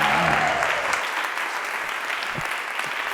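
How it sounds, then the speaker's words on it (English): Audience applause honouring the traditional owners at a Pride in Place hybrid webinar, a dense steady wash of clapping with a brief voice near the start. "How about a round of applause for the traditional owners?"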